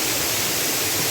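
Waterfall at Pandav Van, a forest shrine site, with a steady, dense rush of falling water close by, broad and even throughout the short stretch, no voices.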